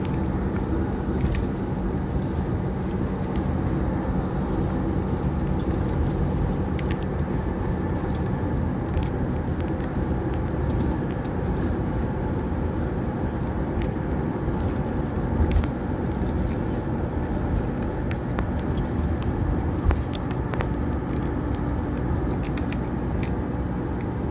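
Steady broadband roar of expressway traffic on the SLEX southbound near the Southwood exit, a continuous wash of passing vehicles with occasional brief louder swells, no talking.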